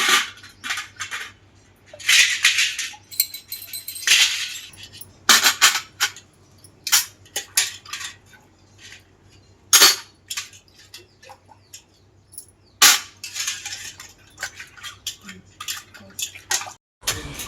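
Pots and a brass lamp being scrubbed and rinsed with tamarind and washing powder, giving scattered metallic clanks and scrapes with bursts of splashing water, close by, with no one talking.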